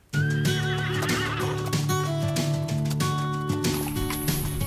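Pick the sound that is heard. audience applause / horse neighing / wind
horse neighing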